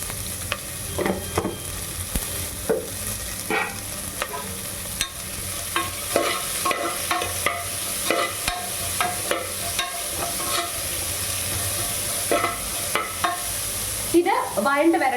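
Onion with salt stirred and sautéed in a pan for vegetable rice, continuous frying sizzle punctuated by repeated spatula scrapes and clanks in an uneven rhythm, close and moderately loud, no talking.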